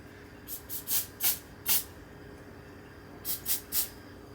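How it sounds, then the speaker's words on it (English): An aerosol can hisses in short sharp bursts, sprayed at a smoke detector: five quick sprays, a pause, then three more, over a steady low background hum. "Hence why I keep spraying more."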